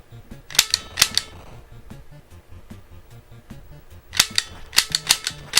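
Crisp, sharp gunshot cracks from the Famicom homebrew shooting game Barker Bill's Trick Shooting, several pairs of quick retro shots near the start and a rapid cluster near the end, over soft chiptune background music.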